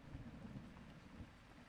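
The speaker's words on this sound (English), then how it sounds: "Lightning is spooking me." Thunder from a lightning storm in Zelda: Breath of the Wild, a faint low rumble under steady rain-like hiss, distant and continuous with no voices.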